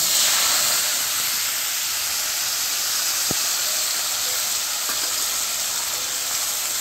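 Dried red chillies and bay leaves sizzle steadily in hot oil for a Bengali chicken paneer curry, a loud continuous frying hiss with a couple of brief sharp pops, heard alone without talk.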